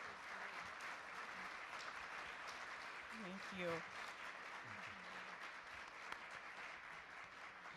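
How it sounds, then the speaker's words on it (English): Audience applause fills a hall at an evening business-community event with speakers, a steady, dense clapping wash lasting throughout, with a brief spoken thanks near the middle. "Let's give them another round of applause"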